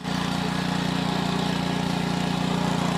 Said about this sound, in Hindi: इंजन पूरी मीठी मीठी आवाज़ में, मंद मंद आवाज़ में काम कर रहा है।